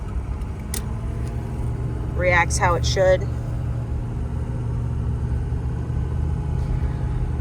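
A 2006 Ford F250 Powerstroke diesel truck engine runs steadily with a low, continuous rumble, while someone speaks briefly over it.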